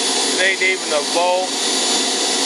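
An RC jet turbine engine built for an F-105 Thunderchief model idles at about 35,000 RPM with a fuel pump running, making a steady, loud, hissing roar with a high whine while someone talks over it.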